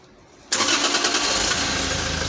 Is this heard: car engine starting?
yes